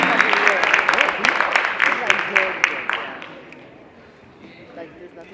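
Audience at a Kijiji Night Black History Month celebration in Seattle claps loudly and steadily for about three seconds before the applause fades away to a quieter room.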